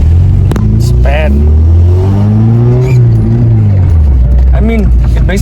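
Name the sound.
Volkswagen Golf Mk1 car engine driving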